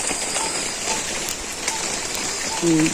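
Steady rain falls in a village, a dense even hiss of drops on surfaces lasting throughout, with a faint tonal sound briefly near the end.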